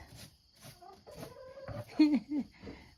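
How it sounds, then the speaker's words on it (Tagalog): A farm rooster gives a few short, faint clucking calls nearby while a person talks softly in the foreground. "yung boses mo, no, Rooster, naririnig ko doon sa dulo"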